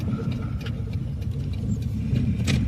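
A white Renault Duster drives past on a rural farm road, its low engine rumble and tyre noise steady and moderately close, swelling slightly toward the end.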